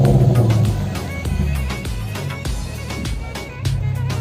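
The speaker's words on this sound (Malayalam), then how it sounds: "ആ ഒരു മുഴക്കവും ആ ഒരു സൗണ്ട് റോഡിൽ ഇറങ്ങുമ്പോൾ ആ വണ്ടിക്ക് ഒരു പ്രത്യേക ശ്രദ്ധ പിടിച്ചു പറ്റാൻ ഈ വണ്ടിക്ക് പറ്റുന്നുണ്ട്" A Ford Mustang's engine gives a deep, steady rumble throughout, loud and close, with a slight dip and a swell near the end.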